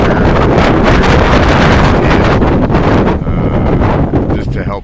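Strong gusty wind buffets the microphone beside a modified M4 800-watt wind turbine mounted low within city limits, a loud continuous roar with surging rushes that eases slightly near the end.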